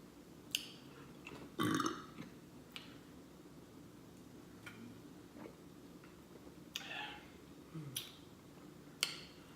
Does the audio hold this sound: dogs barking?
no